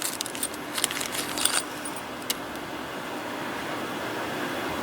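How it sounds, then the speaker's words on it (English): Antique brass pewter keys, about 12 by 40 mm, jangle in several quick metallic bursts during the first half, then go quiet over a steady low background hum. "12 by 40mm Pewter Keys antique brass"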